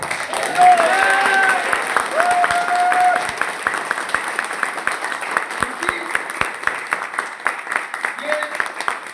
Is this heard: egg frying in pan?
no